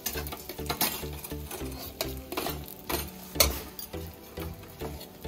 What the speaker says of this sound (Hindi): इसको साथ साथ चलाते रहेंगे